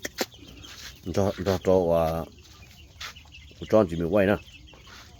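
Chickens clucking at close range in a late-season farmyard, with loud rhythmic bursts of hen and rooster calls around one and four seconds, while a person speaks Vietnamese nearby.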